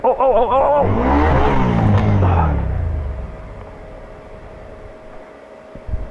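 A motorcycle topples over after being left with its kickstand up, with a loud, clattering crash that rumbles for a couple of seconds and then fades into a quiet background. A voice is heard at the start.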